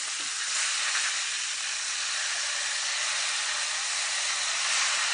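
Steady, loud sizzle of a fish fillet frying in a skillet, for a Fish Francese in lemon butter sauce, just after being flipped; a continuous bright hiss with no talking.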